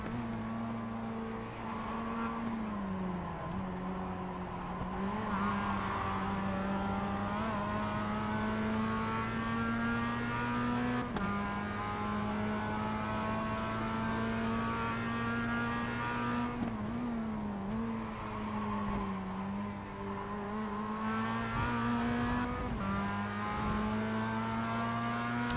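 Race cars in an iRacing Advanced Mazda Series race at Imola drone continuously from on board, engine pitch rising and falling through gear shifts and corners, with faint passing cars and no talk.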